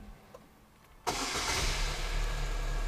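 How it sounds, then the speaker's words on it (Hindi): A 2018–2020 United Bravo motorcycle engine cranks and fires after a second of near silence, then settles into a loud, steady idle that runs to the end. "सो इस गाड़ी को स्टार्ट कर लेता हूँ मैं और आपको दिखाता हूँ कि अब इसकी वाइब्रेशन जो है वो कितनी है।"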